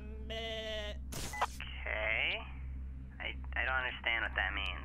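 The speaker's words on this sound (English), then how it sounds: "It means sheep noise." Sheep bleating as a game sound effect in Henry Stickmin, a couple of tonal bleats near the start over a steady background hum, followed by someone talking and playing along.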